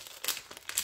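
A plastic bag from a Lego Star Wars magazine being torn open, two short crinkling bursts, close and fairly quiet.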